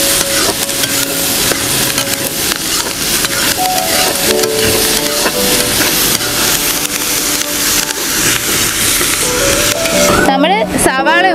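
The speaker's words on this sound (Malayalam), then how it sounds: "നമ്മൾ അരിഞ്ഞു വച്ചേക്കുന്ന സവാള ഇട്ട് കൊടുക്കുവാണേ. നന്നായിട്ട് ഇനി വഴറ്റി കൊടുക്കാവേ ഇത്." Chopped onions sautéing in a pan, a steady loud sizzle and stirring scrape throughout, ending in a brief clatter of utensils.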